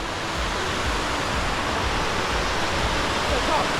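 A waterfall on the West Coast with orange-tinted water gives off a loud, steady, broadband roar, close and unbroken throughout.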